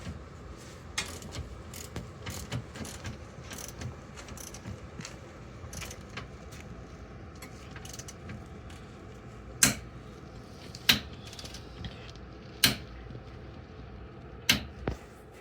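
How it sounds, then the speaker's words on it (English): A torque wrench clicks sharply while tightening control arm bolts on a 2008 Chevy Aveo, several crisp distinct clicks spaced a second or two apart over low workshop ambience, close and without talk. "So these clicks means it's properly torqued."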